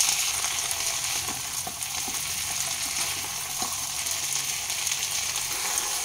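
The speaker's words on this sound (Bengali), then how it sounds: "মিডিয়াম ফ্লেমে 3 থেকে 4 মিনিট সবজিগুলো ভেজে নেব।" Pointed gourd and yardlong beans fry in a pan over medium flame, giving a dense, even sizzle throughout with a few faint utensil knocks.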